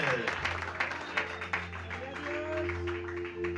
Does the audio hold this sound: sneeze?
no